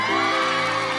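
Audience at a ceremony cheering and whooping loudly, a dense steady crowd roar with shouts rising over it, no clear claps standing out.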